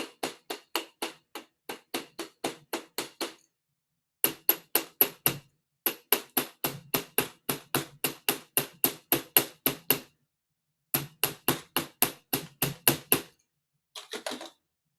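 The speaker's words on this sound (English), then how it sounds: "use the ball peen to make more surface and then hammer it flat with that" Rapid, steady ball peen hammer blows flattening metal wire in long runs separated by short pauses, ringing and close, with no talking.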